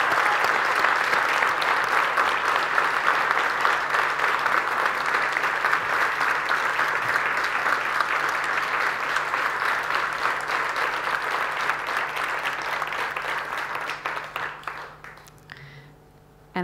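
Sustained applause from an audience at a children's award ceremony, as an award winner is honoured, steady and dense for about fifteen seconds before thinning out and fading near the end.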